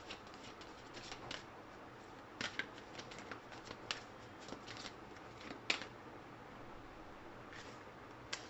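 Oracle cards being shuffled by hand, a faint close-up flutter of riffling and sliding card stock with small irregular snaps and taps scattered throughout, quiet and without talk.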